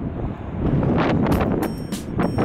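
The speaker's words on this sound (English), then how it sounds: "It is, as you can hear, super windy out right now." Strong wind blows hard outdoors in Brooklyn, roaring and buffeting the microphone in loud gusts that swell and surge for a couple of seconds.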